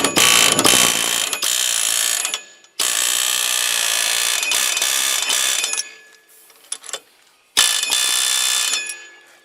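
A ratcheting wrench tightening a part on a hydraulic outrigger during a repack, with long loud stretches of rapid clicking broken by short pauses, close up with no talk.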